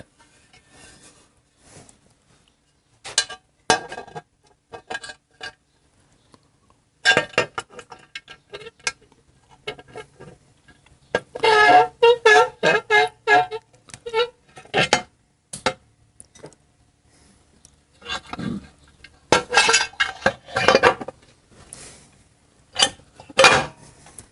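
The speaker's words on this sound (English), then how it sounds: "when I slide the primary cover on, I will slide it right onto those bolts" A Harley Davidson Evo primary cover slides onto its bolts, producing scattered close metallic clinks and taps in irregular bursts separated by quiet gaps.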